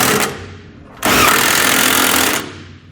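Trailer hitch bolts on a 2017 Chevrolet being tightened with a 19mm socket: a loud, close rattling mechanical burst lasts over a second between quieter stretches of tool noise.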